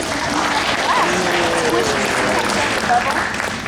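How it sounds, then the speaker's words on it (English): An audience at a glassblowing demonstration at a museum breaks into a dense round of applause, steady and sustained, with murmured voices mixed underneath. "why don't we start by giving Claire a nice big round of applause"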